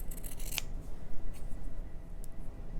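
Scissors snip through fabric while cutting mermaid-scale shapes for a slow-stitched textured piece: one crisp, close cut early on, followed by faint rustling and small handling sounds. No one speaks.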